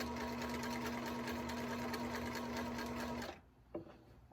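Sewing machine running steadily while stitching a straight line on a T-shirt pillow, a loud continuous motor whir for about three seconds before it stops, followed by quiet handling noise.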